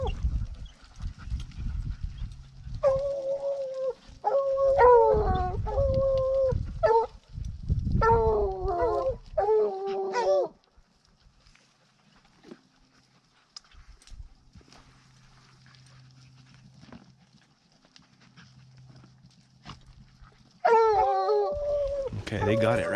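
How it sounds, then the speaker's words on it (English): Female scent-trailing hounds baying and howling in drawn-out, wavering cries in several bursts, then a long quiet gap before another burst of howls near the end, with people talking in the background. "What's that dog's name that's barking?"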